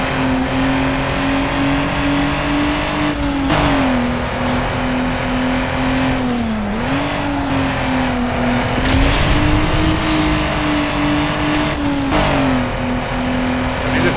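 A GT race car engine from Need for Speed Underground 2 drones loud and steady, with a held high engine tone that dips and climbs as gears shift, plus occasional whooshes of passing.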